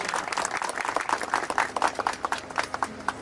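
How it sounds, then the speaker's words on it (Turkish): Audience applause at a municipal ceremony in Mezitli, Turkey, as the mayor is invited to the stage: a dense, steady patter of many hands clapping at moderate loudness, thinning into scattered individual claps toward the end. "Sayın Neşet Taryan'ı alkışlarla huzurunuza davet ediyorum"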